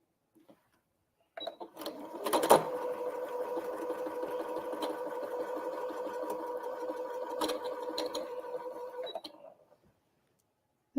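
A domestic sewing machine, freshly rethreaded, stitches a quilt block in one steady whirring run of about eight seconds, close and fairly loud, with a few sharper clacks near the start and end.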